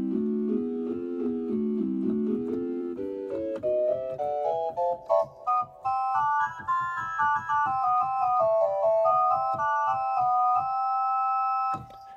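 Pipe organ with the 1 3/5, 2 2/3 and 2 stops of the swell division sounding together plays a slow stepwise line of held notes, starting on low C and climbing, with faint key clicks underneath.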